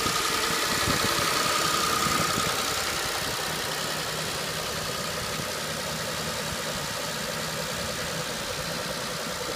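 A 2006 Saturn Vue with a 3.5 liter V6 engine runs at a steady idle, a continuous close mechanical drone with a light ticking texture throughout and no talk.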